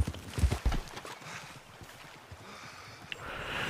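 A few horse hooves clip-clop at the start in the video game Red Dead Redemption 2 Online, then fade into a soft windy rush and faint rustling.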